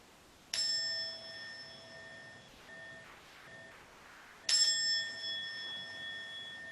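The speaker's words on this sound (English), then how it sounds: "I will ring a bell to conclude this meditation" A meditation bell is struck twice in a quiet room, each strike ringing out clear and bright with a long, shimmering decay, the second ring arriving about four seconds after the first, with no talking over it.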